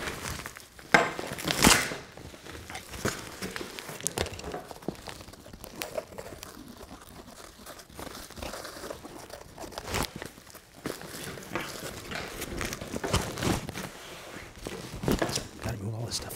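A tactical plate carrier is tapped and handled up close in an ASMR session, with soft irregular taps, rustles and crinkles of fabric and straps while a person talks.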